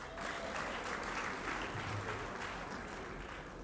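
Steady audience applause fills a ministerial press briefing in Abuja, a dense continuous clapping that holds evenly throughout at moderate loudness.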